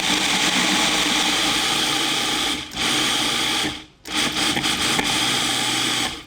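A kitchen blender whirs loudly, mixing a keto vegan fat bomb mixture with salt. It runs steadily, dips briefly midway, stops abruptly near four seconds, then starts again.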